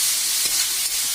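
Chowmein frying in hot oil gives a brief, loud, even hiss of sizzling that holds steady throughout, with no voices.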